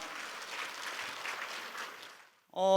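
An audience at a Korean health talk show applauds steadily for about two seconds, the clapping fading out before a short burst of music begins.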